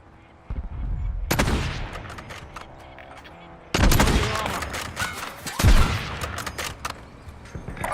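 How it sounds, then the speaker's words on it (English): Automatic rifle fire in a shooter video game, made in Unreal Engine 5: loud, dense bursts of rapid shots with sharp cracks, pausing briefly and then resuming with a heavier barrage. "Got an automatic rifle here."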